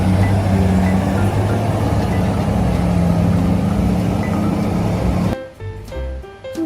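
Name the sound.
RC mining truck model running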